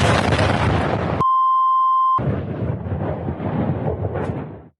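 Explosion destroying an ammunition depot in Donetsk, a loud, sustained roaring rumble broken by a steady one-second beep tone before the roar resumes and then cuts off.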